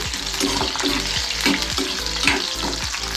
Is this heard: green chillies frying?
yes